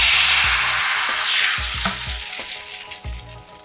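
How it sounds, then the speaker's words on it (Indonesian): A hot Teflon pan dipped into crepe batter for mini towel crepes gives a loud, bright sizzle that slowly fades, with light clinks and taps of the pan underneath and no talking. "Kemudian setelah teflon panas, segera celupkan ke dalam adonan seperti ini."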